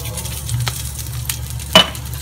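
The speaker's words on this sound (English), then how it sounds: "what I'm gonna do is just add my asparagus with a drizzle of olive oil." Asparagus drizzled with olive oil sizzles steadily in a pan on medium heat after steak was cooked in it, with a soft stirring scrape and one brief clink of cookware near the end.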